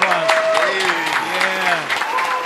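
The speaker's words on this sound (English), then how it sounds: "Can we get a round of applause?" A studio audience applauds to welcome a guest onto a podcast, the clapping loud and steady throughout, with voices talking and cheering over it.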